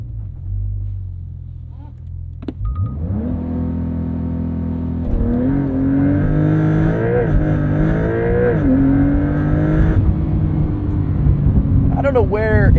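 A 2025 Porsche 911 Carrera S 992.2 with a 3-liter twin-turbo engine idles, then revs on launch control and surges hard through rising gear pulls, loud and close from inside the car.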